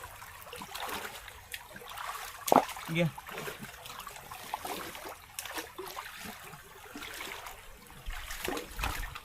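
Irrigation water flowing steadily into a rice paddy outdoors, a continuous trickling rush with a brief splash, as someone speaks briefly over it.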